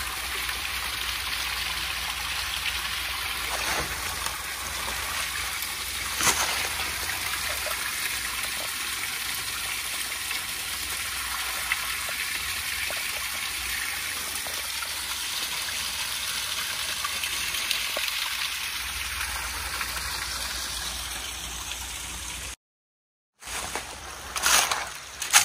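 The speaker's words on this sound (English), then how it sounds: "A little waterfall there." Steady rushing and splashing of water from a small spring-fed waterfall, continuous and close, briefly cutting out near the end before resuming.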